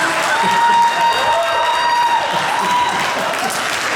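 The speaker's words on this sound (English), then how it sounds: "why is it that every time I'm introduced to come on stage, nobody gives me a round of applause?" Applause and some cheering from an audience at an event at the Embassy of Nigeria, a broad steady wash of clapping that stays fairly loud for the whole few seconds before easing slightly.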